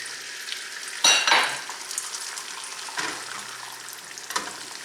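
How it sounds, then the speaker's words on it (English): Egg sizzling in hot vegetable oil in a skillet, a steady frying crackle with a loud burst as it hits the oil and brief spatter flare-ups later. "When the oil is nice and hot, as mine is, add the egg."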